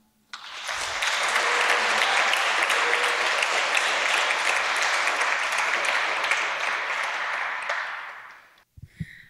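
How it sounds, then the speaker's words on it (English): An audience at an evening design panel discussion gives sustained welcome applause for the panel guests, a dense, even wash of clapping that swells quickly, holds for several seconds, then fades out. "So please give a huge welcome applause to Katrina Dankl, Adam Wesley-Szczyński, and Thomas Weichtner."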